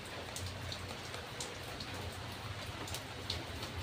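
Heavy rain pours steadily and close by, a dense, even hiss with scattered drop impacts on surfaces, no voices heard.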